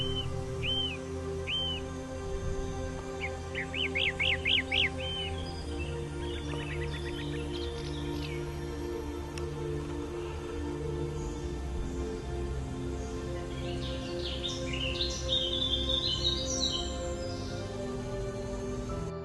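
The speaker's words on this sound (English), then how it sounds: "the forest is at its greenest and echoing with birdsong" Birdsong in New Forest woodland in summer, a few scattered whistles, chirps and trills from birds at a distance over a steady low hum that stays through the whole stretch.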